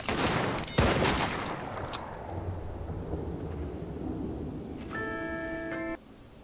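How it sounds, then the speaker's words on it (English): Gunshots from a Peaky Blinders TV episode: a sharp burst of shots at the start gives way to a lingering rumbling echo, followed by a brief tonal ringing near the end, moderately loud with no talking. "he shot Tommy somewhere else and Tommy shot him in the face"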